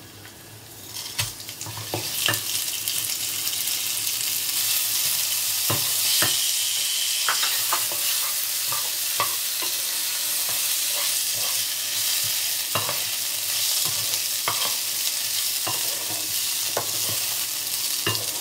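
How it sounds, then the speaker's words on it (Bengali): Gobindobhog rice fries in oil in a pan, a loud, close, continuous sizzle broken by repeated scraping clicks of a spatula stirring the grains. "এটা হালকা করে আমি এটা ভেজে নেব চালটাকে।"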